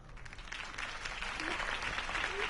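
Applause follows a campaign speech, with many hands clapping in a steady, dense patter that stays fairly faint, as if heard from a distance.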